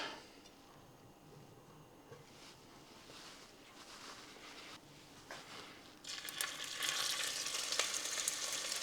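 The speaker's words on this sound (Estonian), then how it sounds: "Ja pruunistame lihatükid." Moose meat pieces browning in hot olive oil in a pot, a steady soft sizzle and crackle that grows louder and brighter toward the end, close and alone without talk.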